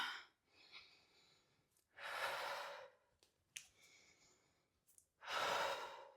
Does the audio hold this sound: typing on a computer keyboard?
no